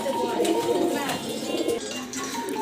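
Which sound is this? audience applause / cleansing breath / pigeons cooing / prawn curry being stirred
pigeons cooing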